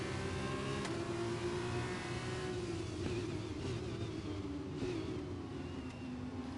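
An F2 race car in a racing video game accelerates at full power with a steady, loud engine drone that rises gradually in pitch, constant and close throughout with no talk.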